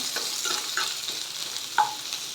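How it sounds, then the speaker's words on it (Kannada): Onions for vermicelli upma fry in a pan, a constant close sizzle broken by several scraping stirs of a spoon against the pan. "ಈರುಳ್ಳಿನ ಸ್ವಲ್ಪ ಫ್ರೈ ಮಾಡ್ಕೊಳ್ಳೋಣ ಇವಾಗ"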